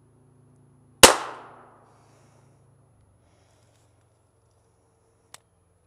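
Single Glock 42 pistol shot fired at an outdoor range toward a 30-meter target, one sharp loud crack with a short decaying tail, followed by a faint distant click a few seconds later.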